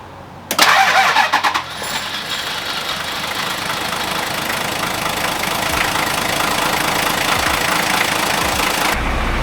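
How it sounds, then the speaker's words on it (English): A Toyota 60 Series Land Cruiser with a 2H diesel engine starts after an alternator change: a brief loud cranking burst catches, then settles into a steady, rough, clattering idle that continues close by. "put the battery back on and we'll start her up"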